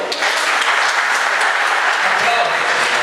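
A church congregation applauds throughout, a dense, steady wash of clapping that stays loud and even from start to finish.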